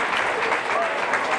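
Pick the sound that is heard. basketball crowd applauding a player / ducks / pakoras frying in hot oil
basketball crowd applauding a player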